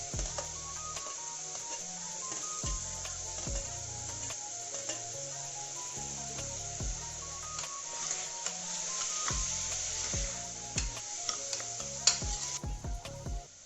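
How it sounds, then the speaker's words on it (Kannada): Beans and carrots frying in a pot for one-pot rasam rice, stirred with a steady sizzle and repeated scraping strokes throughout, close, with no talk. "ಅದೆರಡನ್ನೂ ಹಾಕ್ಕೊಂಡು ಮತ್ತೆ ಚೆನ್ನಾಗಿ ಮಿಕ್ಸ್ ಮಾಡ್ಕೋಬೇಕು."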